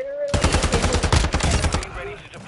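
Rapid automatic gunfire from a gun in Call of Duty MW2, a dense burst of closely spaced shots lasting about two seconds, loud and near, then cutting off abruptly.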